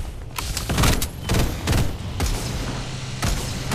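Gunfire trades back and forth in a Farlight 84 firefight, with loud repeated bursts and sharp shots clustered in several clumps, close and punchy, with no voices over them.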